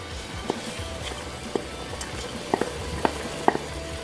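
Chopped onions frying in a pot for a white bean stew, a low steady sizzle with a few distinct clicks and taps of a utensil against the pot, no talk.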